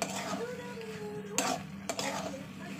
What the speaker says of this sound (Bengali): তো চলুন এবার এই ডালটা আমি গ্যাসটাকে জোরেই দিয়ে কিন্তু একটু কষিয়ে নিচ্ছি